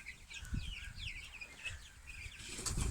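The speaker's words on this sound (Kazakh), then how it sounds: "Быйылғы балапандар." Young chicks hatched this year clucking and chirping among poultry, with soft wing flaps and scratching nearby in a quiet farmyard.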